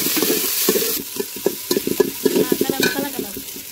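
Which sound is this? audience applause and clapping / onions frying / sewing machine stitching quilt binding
onions frying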